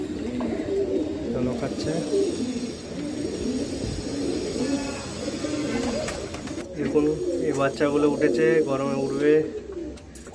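Pigeons coo throughout in a low, continuous murmur while someone talks over them, with the cooing growing busier and closer near the end.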